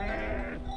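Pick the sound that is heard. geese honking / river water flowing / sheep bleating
sheep bleating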